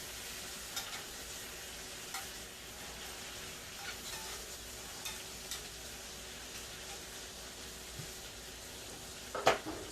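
Gravy for a steak and shrimp surf-and-turf dish bubbling in a pan, a soft, even sizzle with light spoon taps at intervals and a sharper clatter near the end, no talking.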